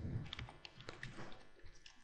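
Faint, quick keystrokes on a computer keyboard while working in Excel, a short run of light irregular taps and clicks close to the microphone.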